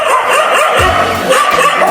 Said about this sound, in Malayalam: ഈ പട്ടികളെല്ലാം കൂടെ എന്തില്ല നമ്മളെ പിറകെ ഓടി വരണേ